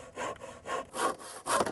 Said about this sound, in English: since we're just cutting 2x4s here, I'm using an old-fashioned handsaw here